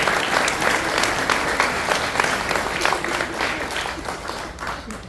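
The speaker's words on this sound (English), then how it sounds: "Let's give them a round of applause." A crowd applauds people coming up at a speech event, steady dense clapping sustained for several seconds at an even level before gradually thinning toward the end.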